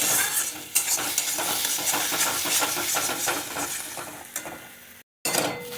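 Steady sizzling of eggs frying in a pan for an omelette, with scraping and stirring noises throughout and a brief cut near the end.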